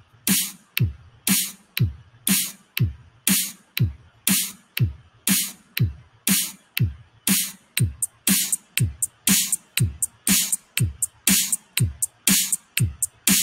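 Programmed drum loop built in SoundTrap with eighth-note hi-hats, sharp evenly spaced hits and thumping low beats repeating in a steady, loud pattern with no voices.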